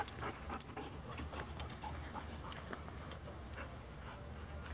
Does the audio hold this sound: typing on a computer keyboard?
no